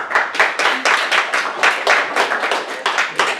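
A comedy club audience applauds as improv comedians come to the stage, brisk clapping with a strong, roughly regular pulse of loud bursts, fairly close and continuous throughout.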